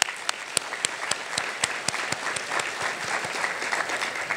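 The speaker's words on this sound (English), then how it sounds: "will you all give yourself applause for showing up this morning?" An audience at an awards breakfast applauds steadily, many hands clapping together in a sustained, even wash of sound with sharper individual claps popping out.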